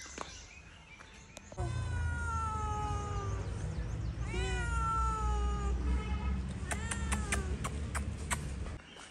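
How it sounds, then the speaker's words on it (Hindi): Two street cats meowing and caterwauling along a road in Kashmir, a series of drawn-out rising and falling yowls, fairly close and clear over a low background rumble. "देखो रास्ते में दो दो बिल्लियाँ मिली लेकिन काली नहीं"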